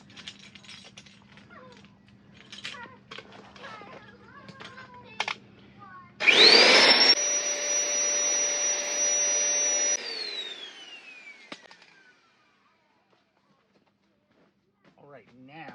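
A vacuum fitted with a large, wide open attachment draws air out of inflatable furniture through a big hole, a loud steady whine starting abruptly after soft handling noises and running several seconds before cutting off.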